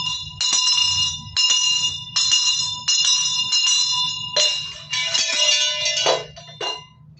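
A church bell rings close and loud in a run of repeated strikes, each leaving a bright metallic ring, with a denser clanging burst toward the end.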